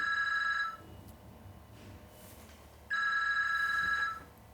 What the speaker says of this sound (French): Mais j'ai pas de téléphone, pourquoi ça sonne?